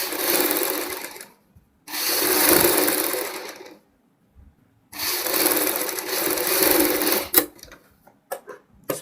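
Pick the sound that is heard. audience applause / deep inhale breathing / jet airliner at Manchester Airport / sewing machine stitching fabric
sewing machine stitching fabric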